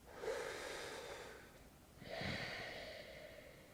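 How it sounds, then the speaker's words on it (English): A deep yoga breath taken during a hip flexibility pose: a long, close, airy inhale followed by a fuller, slightly rough exhale, with no talking. "One more breath"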